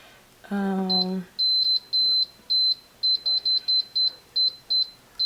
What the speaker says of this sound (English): I'm putting in the air fryer. We're gonna temp 360 time.